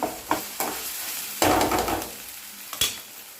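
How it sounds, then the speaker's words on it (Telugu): Ginger garlic paste fries in oil with browned onions, a soft hiss of sizzling punctuated by several loud scrapes and knocks of a spoon stirring the pan. "ఇప్పుడు అల్లం వెల్లుల్లి పేస్ట్ వేసుకుందాం ఇది కూడా ఆయిల్లో కలుపుకోవాలి"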